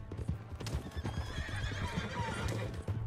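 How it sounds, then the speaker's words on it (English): Horse hooves clip-clop steadily and a horse whinnies in a video game, loud and close, with game characters' voices and effects mixed in. "Hey, that's my horse!"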